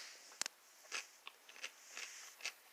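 Someone bites into ribs with pickles, giving a handful of sharp, close crunches and crackling chews spaced irregularly across a quiet background, with no talking.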